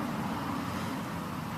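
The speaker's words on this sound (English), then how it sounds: "There's the trash truck coming by." A trash truck rolls past outdoors, its steady broadband roadway rumble and engine noise filling the whole moment without letup, fairly close and even in level throughout.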